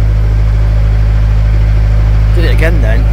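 A narrowboat engine at full throttle on the River Thames: a loud, steady low drone with a strong rumbling throb runs throughout, and a voice cuts in briefly near the end.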